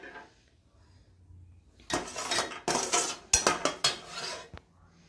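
Roasted almonds being taken out of a pan of ghee, with clattering spoon-on-pan scrapes and clinks over about three seconds after a quiet start, ending in a sharp tap.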